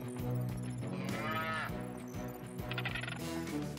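Cartoon cow lowing in a cheerful animated rescue scene with a penguin riding it, a drawn-out moo over a busy bed of music and effects, loud and close.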